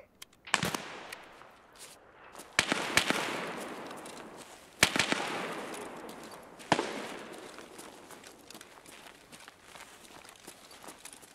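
Gunshots in Escape From Tarkov, several sharp separate reports with echoing tails spaced a couple of seconds apart, with faint footsteps and ambience between them.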